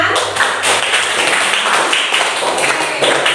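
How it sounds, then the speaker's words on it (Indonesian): Loud, close clapping from a classroom group rings out continuously, a dense rustle of hands with slight swells and no talk over it. "Bagus sekali jawabannya, beri tepuk tangan."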